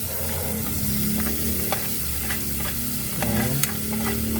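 Minced garlic and onion sizzle in a hot pan at a backyard camp cookout, a steady close frying hiss broken by frequent scraping stirs of a utensil against the pan.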